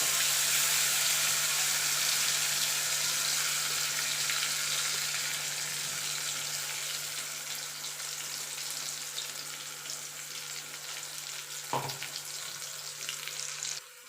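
A bean paste frying in hot oil with black cumin seeds gives a dense, steady sizzle that carries on without a break, easing slightly toward the end and cut by one brief knock.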